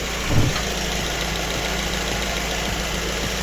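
Opel Vectra C 2.2 petrol engine idling after a valve cover gasket replacement, a steady close hum with a faint ticking texture and one brief low thump near the start, no talking.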